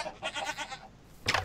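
Two goats in Minecraft bleat softly in a short series of wavering calls, followed by a louder, brighter bleat at the end.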